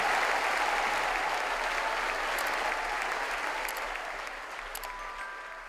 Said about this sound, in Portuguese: vamos aplaudir mais, vamos aplaudir mais